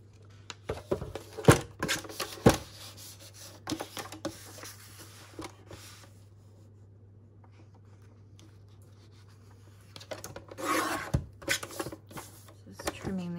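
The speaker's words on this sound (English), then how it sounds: "Just trimming this white edge off." A greeting card has its white edge trimmed off in a craft session, giving short bursts of paper cutting and rustling at the start and again near the end, over a steady low hum with a quiet stretch between.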